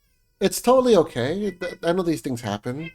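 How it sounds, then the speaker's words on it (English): A pet cat meows in the background while a person speaks steadily over it, the meow faint and partly buried under the talk. "If you hear a meow in the background, that's the kitty who's finding his voice."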